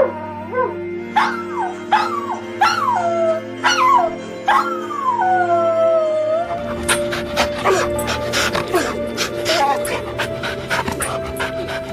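Several dog barks and drawn-out, whining howls sound up close, followed by rapid yips and whimpers under steady panting and background murmur.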